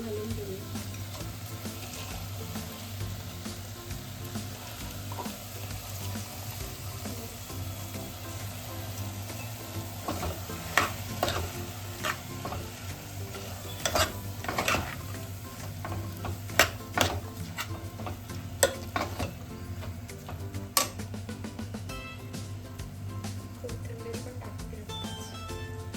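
Rice for a sprouted matki pulao being stirred in a pan with spices, giving a steady low sizzle and irregular scraping clicks of the spoon against the pan, with no talking.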